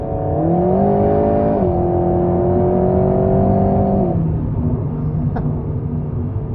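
A 2022 Alpine A110GT pulls hard in fourth gear, its engine note climbing steadily and close for several seconds, then easing back to a lower hum under steady road and wind noise.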